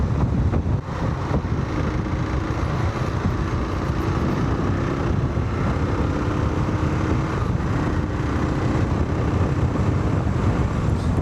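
A KLR 650 motorcycle runs flat out on a dirt road, its engine droning steadily under heavy, buffeting wind rush close to the rider.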